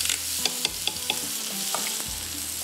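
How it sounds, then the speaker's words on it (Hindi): Garlic frying in butter in a pan alongside potatoes: a steady sizzle under repeated clinks and scrapes of stirring, close and moderately loud. "इसके अंदर जाएगा लहसुन, बटर के साथ ही फ्राई हो रहा है"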